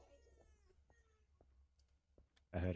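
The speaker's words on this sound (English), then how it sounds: "I heard a cat." A cat meows in the horror video game Labyrinthine, a series of faint, short, high cries spaced across a quiet stretch, followed by a sudden louder burst of sound at the end.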